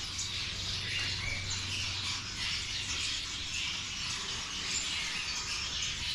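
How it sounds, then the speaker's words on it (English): A flock of finches at a bird farm chirps continuously in a soft, busy chatter, heard at a moderate distance with no talking. "Bunch of finch."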